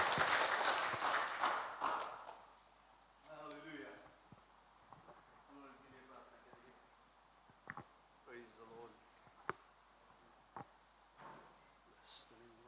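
A church congregation at a Sunday Hindi service claps for a couple, loud at first and then fading quickly, followed by someone speaking with scattered thumps and taps.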